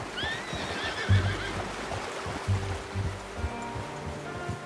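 Horse neighing in Red Dead Redemption 2, a couple of whinnies over soft clip-clop hoofbeats and a running stream or water in the background, fairly quiet and without talk.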